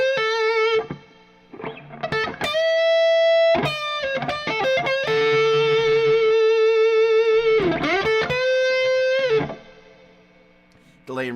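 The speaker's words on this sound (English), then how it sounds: "Delay and reverb." An electric guitar played through delay and reverb effects, with sustained notes and slides that ring out and trail into echoing repeats before fading.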